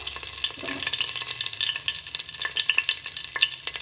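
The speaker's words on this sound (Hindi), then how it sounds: "तेल घी हमारा गरम हो गया है अभी इसमें हम देंगे दो तेजपत्ता" Two bay leaves dropped into hot oil and ghee for a rajma pulao, giving a soft, close crackling sizzle with small stirring clicks throughout, quiet and without voices.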